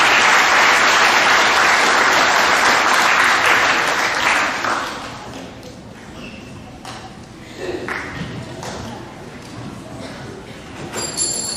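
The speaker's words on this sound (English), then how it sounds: "Give these young ladies a great round of applause, please" An audience in a middle-school awards assembly applauds girls receiving awards, loud sustained clapping for about five seconds that tapers off into scattered claps, shuffling and room noise.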